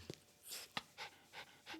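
A small dog pants close by in quick, breathy bursts, a few short puffs in an uneven rhythm with no talk.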